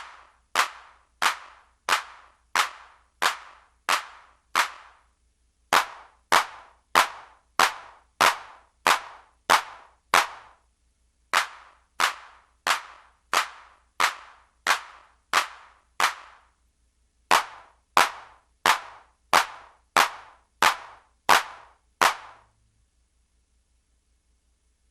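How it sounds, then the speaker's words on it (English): Sharp analog claps from a Behringer RD-6 and a Roland DR-110 drum machine fire in steady even sequences, bright snappy hits in groups separated by short pauses, with no voices over them. "Let's go ahead and compare the RD-6 clap to the original DR-110."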